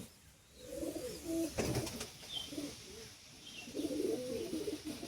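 A female pigeon coos in low, throaty repeated phrases close by, set against a faint hum of room noise with a short rustle partway through.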